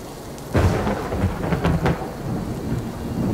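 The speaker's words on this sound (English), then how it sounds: "I do like the sound of thunder a lot, so hearing it in this game is really nice." Thunder rumbles with steady rain in the video game Four Sided Fantasy, a loud crack arriving early and then rolling on under continuous rainfall, with no voices.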